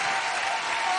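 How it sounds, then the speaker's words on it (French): Brief burst of continuous audience clapping in a television studio, dense and even in level, heard alone without talk. "Mesdames et messieurs, je vous applaudis très très fort"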